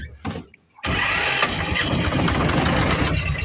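Engine of a self-propelled chassis, a small farm tractor-style machine, cranking up and settling into a rough, steady idle that holds loud and close after a brief quiet moment.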